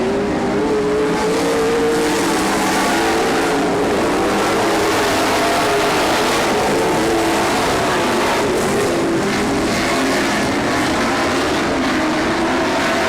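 Race cars roar steadily around a track in a continuous, loud engine drone with rising and falling revs as the pack battles for position, no voices heard.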